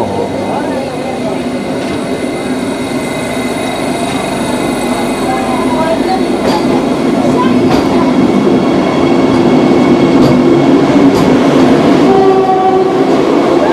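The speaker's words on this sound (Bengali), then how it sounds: "তো আমাদের ট্রেনও স্টার্ট হয়ে গেলো, ওদের ট্রেনও স্টার্ট হয়ে গেলো" The 15959 Kamrup Express passenger train, bound from Kolkata to Dimapur, rumbles along loud and close. The rolling rumble builds over time, with clattering wheels and horn-like tones sounding near the end.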